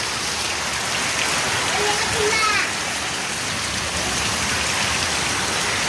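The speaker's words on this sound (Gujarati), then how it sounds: "આવ્યો વરસાદ આવ્યો" Steady rain hisses down continuously, with a brief bird chirp and faint voices in the background.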